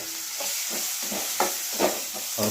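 Onion and tomato stirred and frying in oil in a pan, with a steady sizzle and repeated scraping strokes at an even rhythm, close by.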